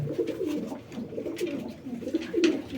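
Pet pigeons give soft, low, repeated throaty coos in a loose rolling rhythm, fairly close but quiet, with faint background noise and no talking.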